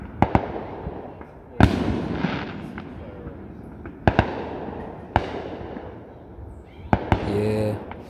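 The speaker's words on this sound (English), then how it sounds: "Fireworks." Repeated sharp fireworks bangs burst at irregular intervals over a noisy crowd murmur, several loud cracks spaced a second or two apart, one followed by crackling.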